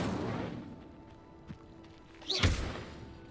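An Incendio fire spell ignites a pyre in the Hogwarts Legacy video game, producing a low rumble that swells into a sharp whooshing burst of flame with a heavy thud, loud and close.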